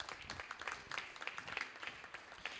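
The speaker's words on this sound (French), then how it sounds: "Mesdames et messieurs, c'est au tour de Laurent Goz, le président de la Chambre de commerce, que l'on applaudit chaleureusement" Faint, distant clapping from the audience at the Blue Tech Show inauguration ceremony as the chamber of commerce president is welcomed, scattered claps heard quietly over room noise.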